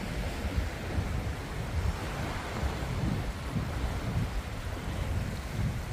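Winter sea waves wash onto a beach at Pohang's Songdo shore, a soft, steady surf roar with faint wind, fairly quiet and continuous, no voices.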